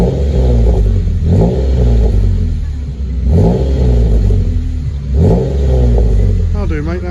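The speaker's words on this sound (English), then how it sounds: "We'll get a bit of a rev again" A Ford ST220 engine with a new TIGS exhaust revs in three short, loud bursts that rise and fall back to a rumbling idle. People talk briefly between the blips.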